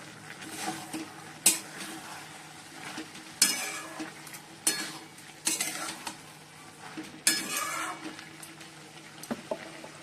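Malabar spinach cooking in a pan on a gas stove, a low sizzle broken by repeated loud scraping strokes of a spatula against metal, close up with no speech.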